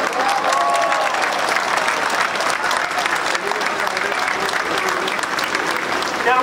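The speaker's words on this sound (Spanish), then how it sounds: "Un aplauso fuerte para Jorge," Loud, dense applause from a crowd at a street rally protesting against AMLO, sustained steadily throughout with scattered cheers and voices mixed in.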